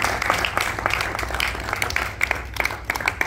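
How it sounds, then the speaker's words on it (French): Crowd at a master-of-ceremonies workshop in a Kinshasa hotel giving a fairly loud round of applause, dense hand claps sustained for several seconds without any speech. "acclamez pour vous-même"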